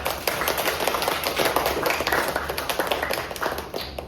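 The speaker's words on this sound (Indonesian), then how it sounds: "Tepuk tangan dulu dong." A classroom of students claps, with many hands beating rapidly and steadily at close range for several seconds, without any talking.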